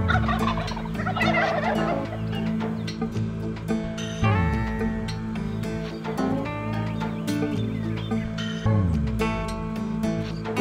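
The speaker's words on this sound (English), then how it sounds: "He's got a really deep gobble." A wild turkey gobbles with a deep voice, loud and close, in a string of rattling gobbles that repeat every couple of seconds.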